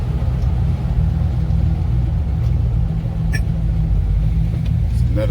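A custom classic car engine rumbling while cruising through city streets, heard as a steady, close, deep drone that holds an even level throughout.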